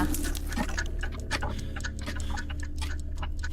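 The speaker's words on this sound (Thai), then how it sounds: "ในห้องนี้มีเสียงนาฬิกา" Steady clock ticking fills a room in the horror game MADiSON, a regular tick-tock beat running close and clear over a low background hum, with no voices.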